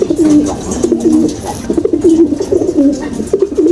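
Racing pigeons coo in repeated low, throaty rolls, close and fairly loud, with a steady run of calls from several birds at a loft during a race.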